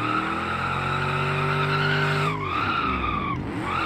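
A car drifting through donuts in second gear in the BeamNG driving game, its tires squealing loudly and continuously with a sustained engine tone that sweeps down and back up, close and without pause.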